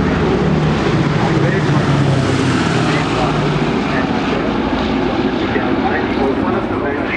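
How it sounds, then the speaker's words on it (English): A World War II four-engine aircraft, the Pink Lady, flies past at an airshow with a loud, steady droning roar of piston engines that holds throughout, slowly fading slightly, with commentary talk over it. "Pink Lady is flown by André Dominé and his crew"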